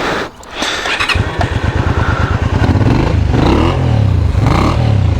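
A 1996 Honda Magna 250cc motorcycle starts up close by, catching with a quick cranking clatter before settling into a steady, even idle with a faint squeal.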